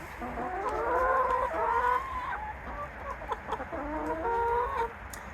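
A backyard flock of laying hens, including speckled Sussex, clucks and cackles close by in overlapping, rising calls, with brief chatter and a few sharp squawks, and no one talking.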